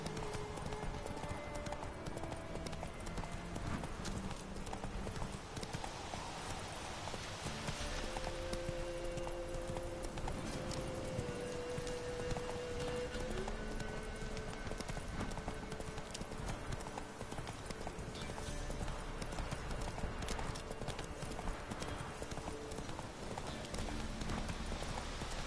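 Horse hooves from The Witcher 3 video game clip-clop in a steady walking rhythm throughout, moderately near, with faint ambient game sounds beneath and no clear talk.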